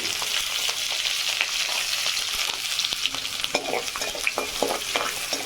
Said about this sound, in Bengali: এটাকে ভালো করে একটু সময় ভাজবো